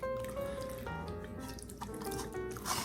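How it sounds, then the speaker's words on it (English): Excess chicken marinade poured out of a bowl, a close steady liquid trickle with drips and soft splashes, alone and moderately loud. "with the excess marinade, I'm going to pour it out"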